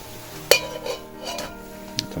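Old dishes are handled in an abandoned Chinese-style manor, giving a sharp ceramic clink followed by softer knocks and a second light clink over quiet room noise, with no talking.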